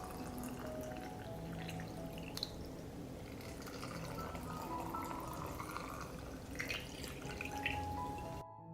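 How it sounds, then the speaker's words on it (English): Water is poured into glass jars of blueberries for canning, a faint, continuous trickling and gurgling with small drips, heard close and alone. "I pour water into the jars to cover the blueberries."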